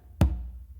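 A single deep, booming conga stroke lands sharply and rings briefly, followed by a faint softer tap at the end, part of a songo pattern pairing finger and bass strokes. Close, alone and quiet overall.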